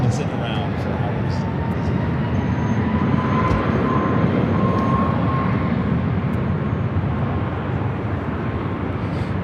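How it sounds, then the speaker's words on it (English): A Southwest Airlines Boeing 737 MAX 8 departs LAX runway 24 left for Houston Hobby, its engines making a loud, sustained broadband roar that stays steady throughout, with a faint tonal whine layered on top. "This takeoff is Southwest Airlines 3043 taking off to Houston Hobby on the MAX 8."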